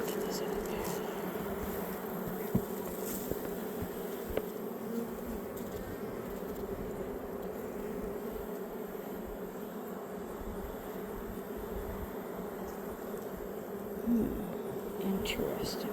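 A late-season bee swarm around a very small hive of young bees, a dense continuous buzzing drone close by and steady throughout, with faint handling noises.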